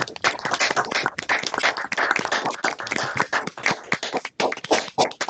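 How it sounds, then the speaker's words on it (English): Online audience at a university honors college award ceremony clapping for students after unmuting, close, uneven clapping with sharp individual hand claps and short gaps, fairly loud. "let's end this by unmuting and giving our students a warm round of applause"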